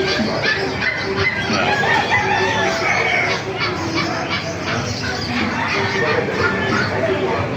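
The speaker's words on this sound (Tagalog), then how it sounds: "puro manok yan." Chickens clucking and squawking in a busy market coop in Calumpit, with a rooster crowing now and then and a person talking over the steady din.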